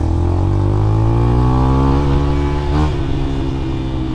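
Honda Verza 150 motorcycle fitted with a Tiger exhaust revving loudly up close, a steady throaty drone climbing in pitch through one long pull before easing off, with no voices.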